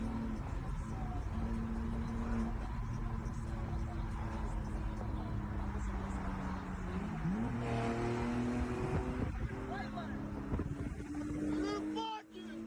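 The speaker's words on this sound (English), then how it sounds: "The silver/gray car is swerving through traffic like he's Tarzan" A silver-gray car swerving through traffic, engine revving and rising in pitch amid the whoosh of passing vehicles and wind buffeting the microphone, with a sharp rising rev near the end.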